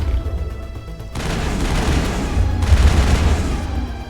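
Shotgun blasts in the Mass Effect video game: two heavy, booming shots land about a second and a half apart, each followed by a sustained roar of noise, loud and close, with no talking.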